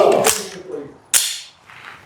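A PSA Dagger Compact pistol fitted with a Herrington Arms compensator fires two sharp, loud shots about a second apart, each crack followed by a short ringing decay outdoors.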